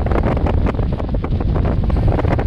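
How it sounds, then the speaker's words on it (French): Strong gusty wind buffets a boat deck moored at Marigot, loud continuous rushing and microphone roar with pulsing gusts and no voices. "il y a facile 35 35 de, vent en rafale"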